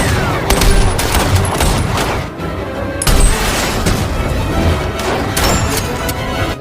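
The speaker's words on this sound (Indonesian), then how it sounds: "menyambutnya dengan tembakan dari senapan mesin" Rapid machine gun fire rattles through a dense, loud action film battle scene, with dense bursts and heavy booming impacts layered over continuous chaotic noise, no voices.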